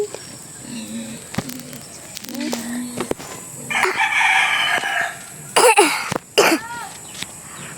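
A rooster crows nearby, loud and drawn out, after scattered clucks and soft farmyard noises, with a second short crow near the end.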